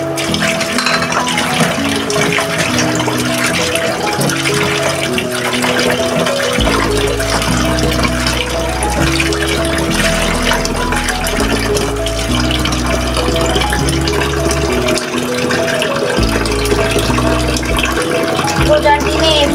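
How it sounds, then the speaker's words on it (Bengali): Dates being washed under a running tap, a steady loud splash of water with shifting low gurgles as the fruit is moved about, continuing without a break. "খেজুরগুলো ধুয়ে নিচ্ছি।"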